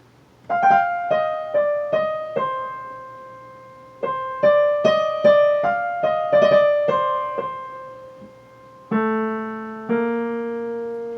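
Line seven of Khachaturian's Andantino played on a keyboard, a slow melody of clear separate notes with decaying tones, two phrases separated by a short pause, ending in lower sustained chords, alone without talk.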